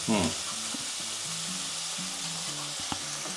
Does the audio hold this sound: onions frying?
yes